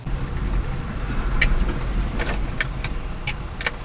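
A HiJet mini truck on old steel wheels with knobby tires drives through snow with a steady, close engine and road rumble, broken by several sharp rattles and clinks from the cab.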